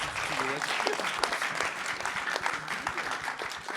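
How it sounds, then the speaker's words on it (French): Sustained clapping from a crowd at a local community evening event, continuous and fairly loud, with a few scattered voices mixed in under the applause. "Est-ce qu'on peut l'applaudir?"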